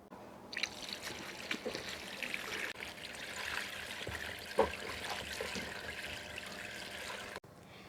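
Banana heart (ubod ng saging) being washed by hand in a basin of water, with soft trickling, splashing and dripping, close and quiet, in irregular bursts with no talking.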